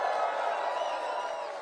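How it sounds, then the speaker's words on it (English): A large crowd cheers and roars after a speech at a Pierre Poilievre event. The noise is loud, dense and sustained, a steady wash of voices with no pause across the short moment. "What a crowd. What incredible energy."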